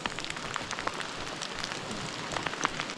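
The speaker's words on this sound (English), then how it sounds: "Rain's back." Rain patters steadily on surfaces in a woodland near a beach in Eryri in winter, a soft continuous hiss with scattered close drops and no voices.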